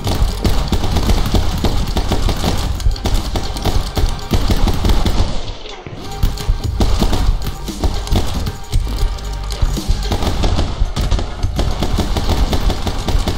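Rapid, dense bursts of gunfire in the game My Friend Pedro hammer almost continuously, loud and close, with a brief dip near the middle before resuming.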